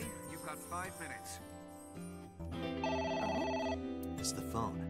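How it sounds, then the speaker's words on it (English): A telephone rings in the video game AI: The Somnium Files, a bright repeating electronic trill over steady in-game background music, fairly clear and close. "It's the phone."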